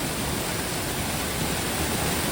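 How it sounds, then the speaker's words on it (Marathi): A large waterfall in Malgund pours with a steady, dense broadband rush of falling water, an unbroken roar with no voices. "निसर्ग संपन्न मोठासा धबधबा आहे"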